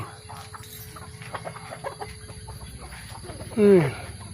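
A broody hen clucks softly amid background chatter in an early-morning yard, ending in a louder, drawn-out squawk near the close.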